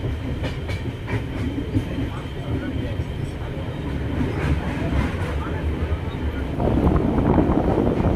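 The Jagannath Express runs overnight between Kolkata and Puri, heard from inside a general compartment as a constant loud rumble of wheels and carriage rattle with wind buffeting the microphone and faint background voices.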